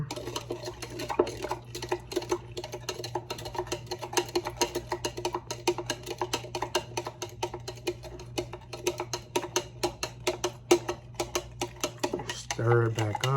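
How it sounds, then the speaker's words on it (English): A spoon stirs a mixture in a container, making quick repeated clinks and scrapes that are close but fairly soft and continue steadily throughout. "Stir it back up again, stir, stir."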